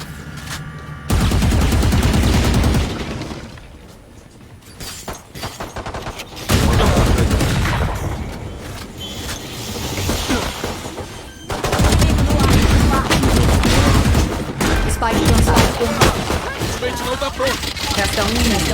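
Gunfire from the tactical shooter Valorant, loud repeated bursts of shots with pauses between, mixed with game effects while someone talks over the action.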